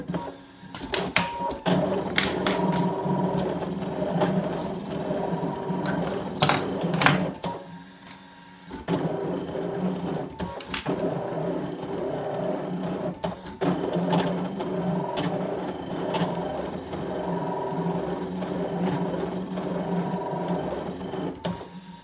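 Brother ScanNCut machine cutting card with its blade; a mechanical whirring and clicking motor sound with sharp ticks and short pauses, close and steady, with one brief quiet gap partway through.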